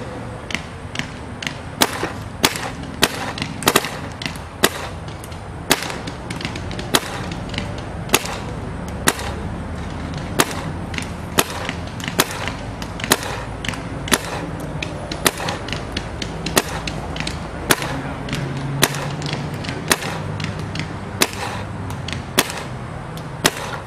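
Dye DM11 paintball marker firing repeatedly, sharp close pops in an irregular, steady stream over a constant background hiss, loud and alone without talk.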